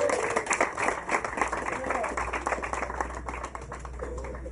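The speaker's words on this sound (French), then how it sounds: "On applaudit pour le président Alassane à l'Assemblée" An audience at a political gathering applauds for the president with steady, scattered clapping, heard under ongoing speech and crowd murmur.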